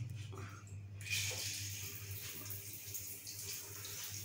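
Water streams steadily from a newly installed Bathwell shower head in a bathroom, a soft continuous spray with a low hum beneath, after a brief quiet start.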